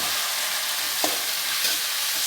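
Mushrooms fry in a pan with a ground spice paste, giving a steady close sizzle with a couple of brief scraping stirs, and no voices.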